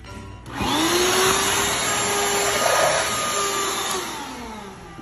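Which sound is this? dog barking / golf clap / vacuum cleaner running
vacuum cleaner running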